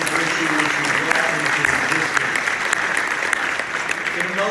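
Steady, dense applause from an audience at a forum for promoting peace, a loud continuous clapping that lasts the whole moment without a break.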